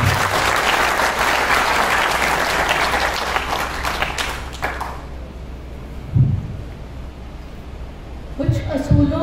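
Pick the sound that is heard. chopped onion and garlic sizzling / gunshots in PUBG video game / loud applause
loud applause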